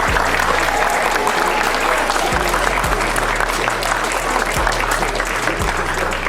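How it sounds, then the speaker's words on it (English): Students at Meyer Levin I.S. 285 in Brooklyn give a steady round of applause for a visiting gang-prevention panel, the clapping dense and even over a low repeating hum. "Let's go, round of applause."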